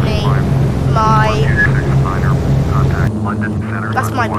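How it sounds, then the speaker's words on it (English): Dash 8 turboprop airliner engine in Microsoft Flight Simulator X, a steady loud droning hum with a constant low tone throughout, with a person talking over it. "I'm flying in Dash 8."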